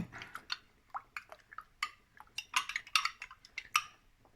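A spoon stirs a thickening mixture in half a glass of cold water for a guinea fowl casserole, with quick light clinks and taps against the glass in an uneven rapid rhythm, close and fairly quiet.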